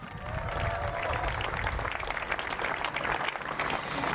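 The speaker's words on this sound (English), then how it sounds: "Give DC government a big round of applause" A crowd applauds for DC government at a stadium ribbon-cutting ceremony outdoors, a dense, continuous wash of clapping with cheering mixed in, fairly loud throughout, with some voices blended into the noise.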